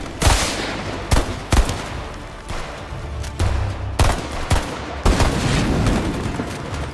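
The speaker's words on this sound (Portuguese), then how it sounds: "O som dos tiros ecoava na noite." Sharp gunshots ring out one after another at irregular intervals, each followed by a booming echo that trails off.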